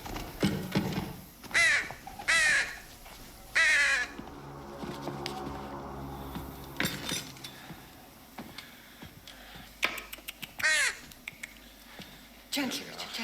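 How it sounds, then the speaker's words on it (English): A crow caws repeatedly indoors in a room, several loud harsh calls in bursts, with people talking and moving around between the calls. "Sophie, there's a crow in the room."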